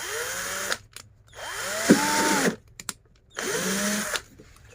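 A power drill whirs in three separate bursts, each lasting about a second or two, making holes in a plastic pot, with short pauses between them; close and fairly loud.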